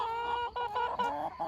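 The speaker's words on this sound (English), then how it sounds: "Beautifully naturally pastured birds." Broiler breeder pullet chickens on pasture cluck and murmur continuously in a close, busy flock chorus, with overlapping calls and no voices.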